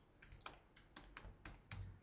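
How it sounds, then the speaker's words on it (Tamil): Quiet keystrokes on a computer keyboard click in an uneven rhythm, about ten light taps with small pauses, close and faint with no talk. "நான் அப்படிங்க டைப் பண்ணுறேன்"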